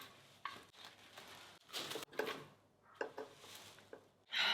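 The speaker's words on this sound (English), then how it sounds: "Let's mix up some dye." Hair dye being mixed in a bowl, soft wet stirring and scraping strokes in uneven bursts, close and fairly quiet.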